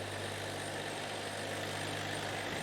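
A tractor engine runs steadily at close range, a constant low droning hum with a strong rumbling tone that holds unchanged throughout, set for plowing crusted snow.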